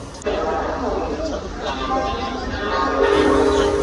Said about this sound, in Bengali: ছটা সাতচল্লিশ এই ট্রেন হাওড়া ছাড়লো